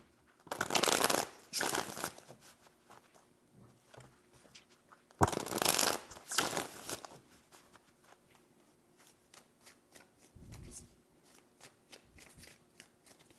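Tarot cards being shuffled, two loud bursts of riffling with a softer patch of card handling and light taps between them, close and alone.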